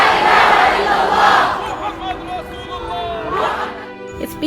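A large crowd at a Free Palestine rally at Sydney Town Hall roars and chants in waves, loud and close, with a second surge rising near the end.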